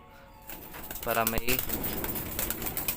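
Young racing pigeons fly around their loft, with a brief, close, low coo rising over a soft rustle of wings and background noise.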